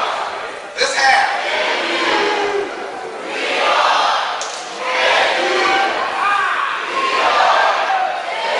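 A convocation crowd cheers in a large hall, a loud sustained roar with shouts that swells, dips and swells again in several waves, closing on another rising burst.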